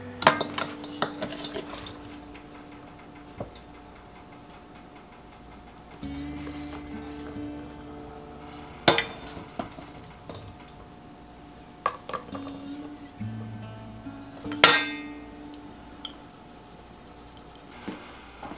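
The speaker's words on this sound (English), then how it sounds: "when I shake them down, they'll go down there into place" Glass pint jars packed with green tomato pickles clink and rattle as they are shaken down, giving scattered sharp glassy knocks and a few louder clanks over a quiet kitchen background.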